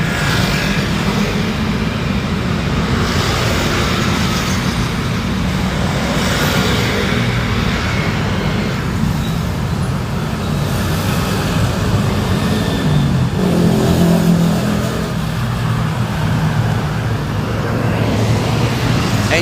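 Motorcycles and general traffic on a Bangkok street, a continuous loud roadway rumble of passing engines with a louder vehicle swelling past midway, no talk.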